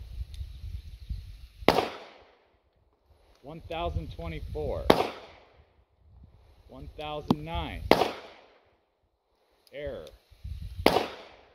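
Four sharp, loud 9mm pistol shots fired with Hornady 125 grain jacketed hollow point XTP rounds, spaced about three seconds apart, with someone speaking briefly between the shots.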